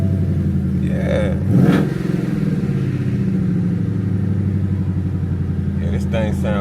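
A Ford Mustang Mach 1 engine idles with a loud, steady rumble, swelling in a brief rev partway through, while someone talks over it throughout.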